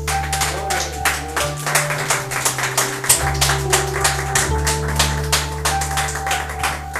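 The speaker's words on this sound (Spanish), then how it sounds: "Un fuerte aplauso a Dios, iglesia." A church congregation claps in rhythm during a sermon, steady beats over a sustained organ or keyboard chord with a low bass drone.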